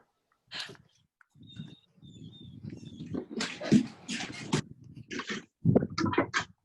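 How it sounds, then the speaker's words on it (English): A neighbor's dog barking, heard as a series of sharp, fairly close barks in irregular bursts, with muffled household sounds in between. "Might hear my neighbor's dog barking."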